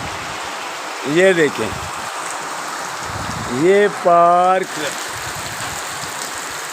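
Rain falls on water in a park on a rainy day, making a steady, even hiss throughout, while a person speaks two short phrases over it.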